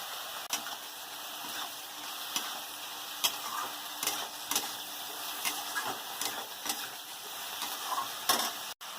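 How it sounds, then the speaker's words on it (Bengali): Greens being stirred together with vegetables, including eggplant, seasoned with turmeric in a frying pan: steady sizzling with repeated sharp scrapes and clicks of a utensil against the pan, close and fairly loud, no voices. "এরকম করে শাকটাকে ভালো করে এই সবজির সঙ্গে নেড়ে নেব"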